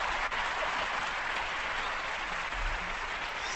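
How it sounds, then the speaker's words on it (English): Sustained audience applause filling the room at a live community show, steady broadband clapping throughout with no voices over it. "just gonna wait for the clapping to die down."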